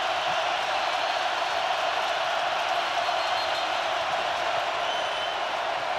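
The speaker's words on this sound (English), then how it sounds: "this will be as loud as this crowd has been all day" A huge Nebraska stadium crowd at a college football game roars in a continuous, dense wall of cheering noise, steady and loud throughout with no break.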